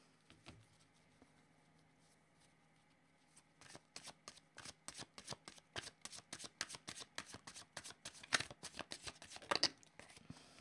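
A deck of cards being shuffled close by, a quick run of crisp riffling flicks that grows denser and louder, quiet at first with no talking.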